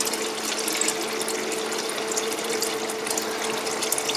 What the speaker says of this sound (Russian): Мы заливаем воду в серединку равномерно.